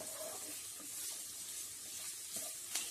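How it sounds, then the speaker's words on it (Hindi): Green chillies sauté on high flame in a pan, giving a soft, steady sizzle and hiss with faint stirring clicks throughout. Nobody talks. "हाई फ्लेम पे इसे सौटे कर लें।"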